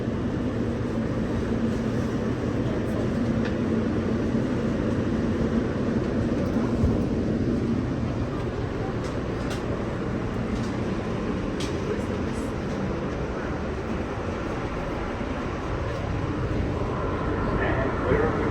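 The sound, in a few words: R160 E subway train riding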